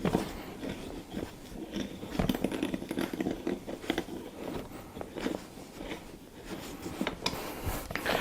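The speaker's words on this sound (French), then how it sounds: "On visse. On va pas visser à fond." Parts of an AKRacing Obsidian Softouch gaming chair being screwed together by hand, giving a steady run of close, soft scraping and creaking clicks with small knocks, heard alone.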